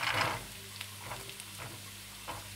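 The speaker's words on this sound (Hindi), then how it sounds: "जब अदरक लहसुन हल्का सा लाइट ब्राउन हो जाए तो आप इसमें गाजर डाल दें" Carrots tipped into a pan of frying ginger and garlic, giving a steady quiet sizzle with a few soft stirring scrapes and clinks, no voices.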